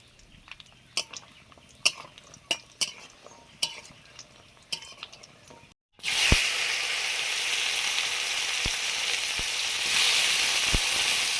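Homemade lentil dumplings fry in oil: sharp utensil taps and clicks at first, then a loud broadband sizzle with occasional knocks, close up.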